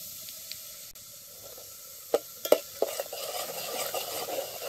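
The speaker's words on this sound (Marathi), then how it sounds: "आता तेल कडलंय, ह्यात 1-2 पळ्या चटणी टाकायची." Chili chutney meets hot oil in a pot for a village-style spicy chicken rassa, giving a few sharp clinks and spits before a steady, moderate sizzle builds; no one talks.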